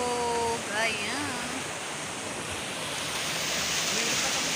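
Rushing river water at Lagaslasan river makes a steady broadband roar close to the microphone, with a brief voice and some whistling tones over it near the start.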